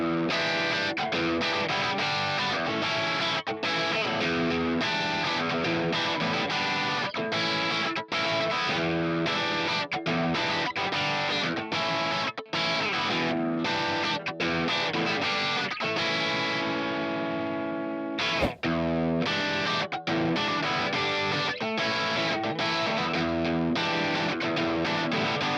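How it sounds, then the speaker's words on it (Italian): A PRS SE Custom 24 electric guitar on its bridge single-coil pickup, driven through a distorted Marshall plexi-style tone, plays a continuous run of crunchy chords and notes with only a brief break near the end. "Un po' di distorsione, magari una bella plexi, manteniamo i single coil ma questa volta al ponte."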